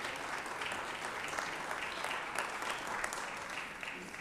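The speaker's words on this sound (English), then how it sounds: "So would you please give them all a round of applause for their recovery." Applause from an audience in the Georgia Senate chamber, a steady dense clapping that holds evenly throughout, moderately loud with no talk over it.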